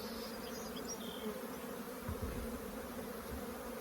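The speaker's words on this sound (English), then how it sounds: "We have a little bee here." Honey bees from an opened hive buzz in a dense, continuous drone, close and steady throughout, with no speech over it.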